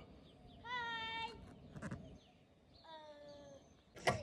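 Two drawn-out, wavering bleats from a mountain goat at Garner State Park, fairly faint with a noisy outdoor background and a brief knock between them.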